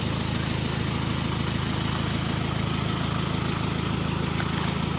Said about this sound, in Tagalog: Ito yung van ko na isa. Bali, in-start ko lang muna. Pinapainit ko.